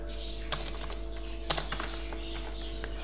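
Rapid keystrokes on a computer keyboard while entering search keywords, a steady close patter of clicks with a few sharper taps over a constant low electrical hum.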